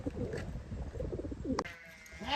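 Pigeons coo in short soft phrases outdoors on a farm, near and fairly clear, with a sharper knock partway through and faint background noise.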